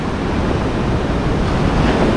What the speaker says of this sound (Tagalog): Wow, grabe yung alon. Malakas.